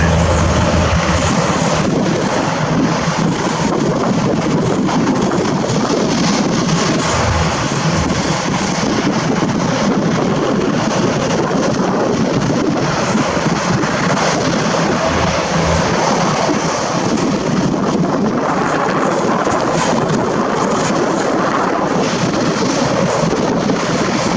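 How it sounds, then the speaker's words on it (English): A Tiger military helicopter makes a reconnaissance flyby, its loud, steady rotor and engine roar running continuously with wind buffeting the microphone throughout. "the remaining Tiger performs a reconnaissance flyby to ensure there's no direct danger from any remaining attackers"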